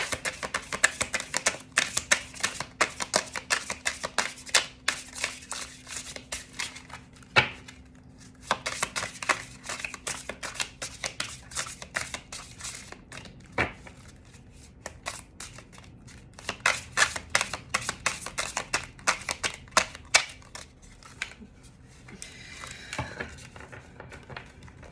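Tarot cards being shuffled by hand in a quiet room, crisp papery riffles and slaps in rapid bursts with brief pauses between them.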